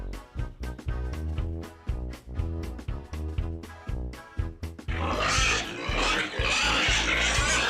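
Fattening pigs in a pen grunt and squeal in short bursts, then break into loud, continuous frantic squealing from several animals close by, wanting to be fed.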